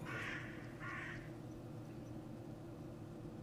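Two harsh crow caws ring out close together at the start from the video game The Last Door, followed by a low steady ambient drone with no voices.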